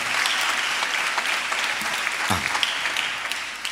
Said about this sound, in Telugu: చప్పట్లు కొడితే యేసయ్యకు స్తోత్రాలు చెప్దాం గట్టిగా.